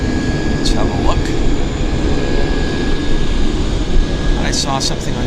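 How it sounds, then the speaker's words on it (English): A Metroliner turboprop taxiing out for departure at Vancouver YVR airport gives a loud, steady engine drone and whine, while voices talk over it nearby. "it's the Flying Pencil, our Metroliner. It's not on the active, it's actually just taxiing out for departure"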